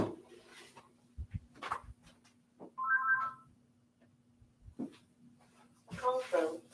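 A mobile phone plays a short melodic ringtone that rings twice with a pause between, close by, among short bursts of talk and background noise.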